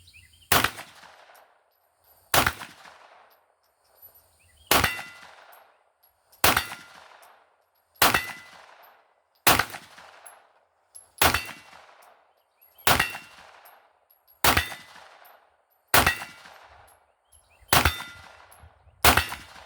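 Gunshots fired at a distant steel target on an outdoor shooting range, about a dozen evenly spaced sharp cracks, each followed by a faint ringing clang and a short decaying echo, with no talk.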